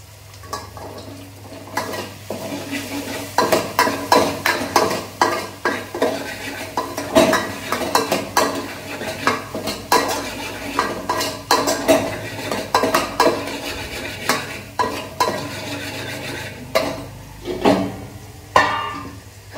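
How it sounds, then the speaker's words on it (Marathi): Onion sautéing in oil in a pan, dominated by rapid repeated scraping and clattering strokes of a spatula against the pan over a soft background sizzle and low hum, close and loud, no speech. "आता मस्त तेल टाकून त्याला चांगलं तेलात सुद्धा परतायचा आहे कांदा"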